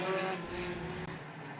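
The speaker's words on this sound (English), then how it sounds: "Figure 8 racing. Stinger figure 8s." Stinger figure 8 race cars at Evergreen Speedway, engines roaring together at a steady, loud pitch with a brief dip partway through, heard from trackside.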